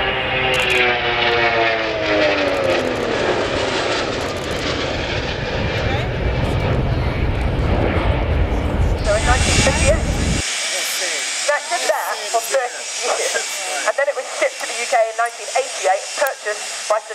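A Royal New Zealand Air Force Boeing 757 performs a display pass at an air show, its loud jet engine roar sweeping past in a broad rush that cuts off abruptly, leaving a commentator talking over the public address.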